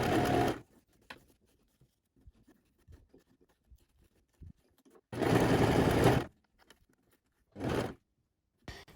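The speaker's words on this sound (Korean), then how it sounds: "다시 삼각형을 올려서 일자로 쭉 박아주시면 돼요." A sewing machine stitches a straight seam through scrap fabric for a small tea bag holder, running in three short loud bursts separated by quiet handling sounds.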